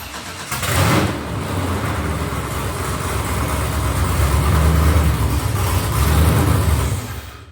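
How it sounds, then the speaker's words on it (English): A GM LS3 V8 engine swapped into an LS1 Camaro or Firebird cranks and fires up on its first start, then runs with a deep, rumbling idle and a couple of light revs before cutting off. "here's a clip of our first start with the engine and it running briefly"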